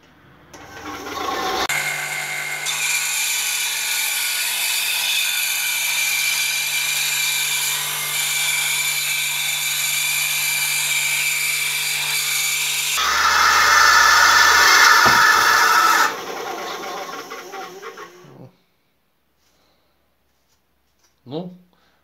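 An Einhell TC-SB 200/1 band saw runs loud and steady, its motor drone shifting in pitch partway through as the blade works, then winds down to silence, with a brief knock near the end.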